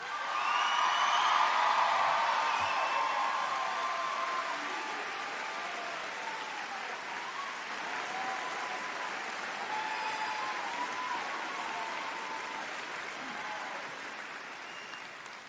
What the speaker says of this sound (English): Please give a round of applause to our new principal, Mr. Bob Pritchard.